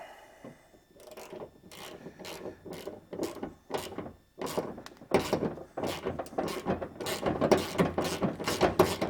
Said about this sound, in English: In fact, I'll get a ratchet.